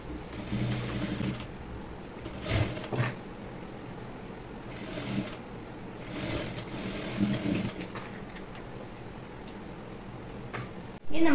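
A sewing machine stitching a designer pleated baby frock runs in several short bursts of steady whirring, separated by brief pauses, loud and close.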